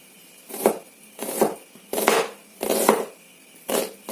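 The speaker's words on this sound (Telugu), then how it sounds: "ఆనియన్స్ అన్నీ కూడా ఇలా కట్ చేసుకున్నాం కదా" Knife chopping onions on a board in a home kitchen, a series of about six dull, evenly spaced chops with soft scraping between them, close and fairly quiet with no talking.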